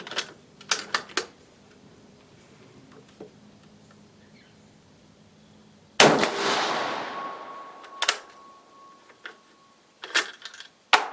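One loud, sharp rifle shot with a long decaying ring from a 7.35 M38 Carcano cavalry carbine with a badly pitted bore, framed by crisp mechanical clicks and handling noises before and after.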